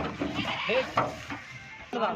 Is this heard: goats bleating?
yes